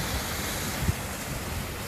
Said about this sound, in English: But the waterfall itself is actually quite nice.